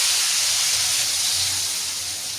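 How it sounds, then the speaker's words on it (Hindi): Hot oil sizzles loudly as it is poured over a pan of dal fried in hotel style for a tadka, a steady bright hiss with no voices, easing off slightly toward the end. "गरम ऑयल जो है इस तरह करके इसके ऊपर डालेंगे।"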